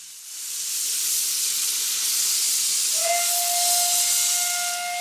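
A fully operating steam train in Patagonia lets off a loud, continuous hiss of steam that fills the whole stretch, with a steady whistle-like tone rising out of it midway and holding to the end.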